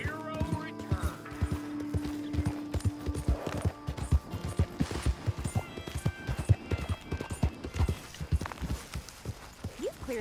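Steady clip-clop of horse hooves trotting at a rapid, regular rhythm in Red Dead Redemption 2, mixed with game sound effects and occasional voices over the top.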